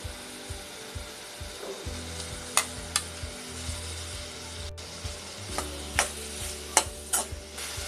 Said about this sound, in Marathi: कोलंबी चांगली 1 मिनिट परतून घेतली आहे।